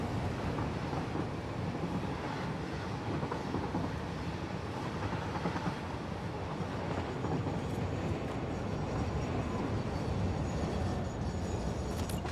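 Train running in the video game Satisfactory, a steady rumbling rail roll with faint rhythmic clatter, continuous and moderately quiet, no talking.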